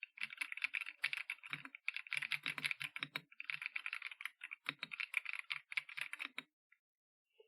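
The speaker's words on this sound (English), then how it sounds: "you want to hear some keyboard sounds?" Close, quiet typing on a computer keyboard during an ASMR stream: rapid clicky keystrokes in bursts with short pauses, ending in silence.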